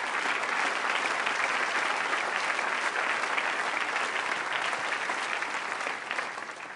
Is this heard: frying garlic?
no